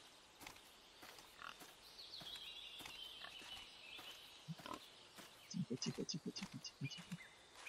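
A wild hog in the hunting game Cabela's Big Game Hunter Pro Hunts gives a quick run of low, rhythmic grunts near the end, among soft bird calls and faint ambient noise.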